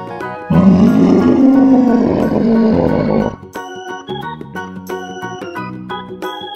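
A deep, growling roar sound effect lasting a few seconds, followed by light playful music with plinking notes.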